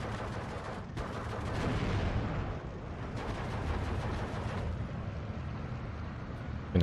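Artillery fire pounding M10 tank destroyers in Steel Division 2, with a steady rumbling barrage of dull impacts and crackling shots running throughout at a fairly even loudness.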